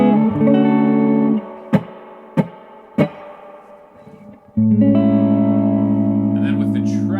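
Electric guitar played through a Supro Black Magick Reverb amp with reverb turned up high, sustained chords ringing with a washy tail, interrupted by a few sharp muted string hits before a loud chord swells back in.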